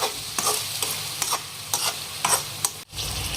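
Tomato and onion cook in a pan as a spoon stirs them through several scraping strokes, with a soft sizzle running steadily underneath, close and alone.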